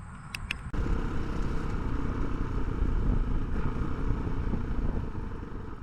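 A Honda CRF450RL motorcycle with a Vortex ECU starts and is ridden off, a sudden rise into a steady, close engine drone with wind noise that holds for several seconds.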